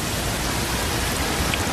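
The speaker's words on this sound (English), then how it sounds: "Between the driving rain, the wet decks" Driving rain pours steadily over the wet steel decks of a New York City skyscraper under construction, a dense unbroken hiss with no voices.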